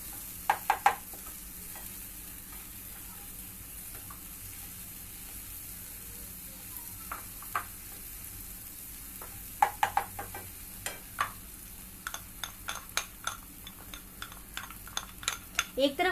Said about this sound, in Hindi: एक तरफ हमारा ये जो मटर है ये मैं इसे भून रही हूँ